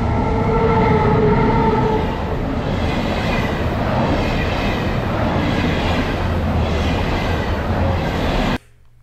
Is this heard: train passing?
yes